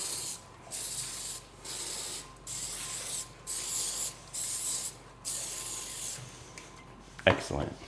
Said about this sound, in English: Just a little light spray over each one.